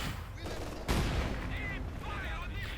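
Gunfire in the Company of Heroes 2 battle game, a sharp burst followed by scattered distant shots and rattling fire amid battlefield din, with a voice talking over it.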